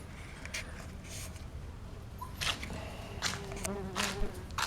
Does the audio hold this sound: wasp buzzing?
yes